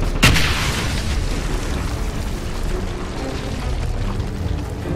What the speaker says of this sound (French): Il nous jette des grenades, le vilain.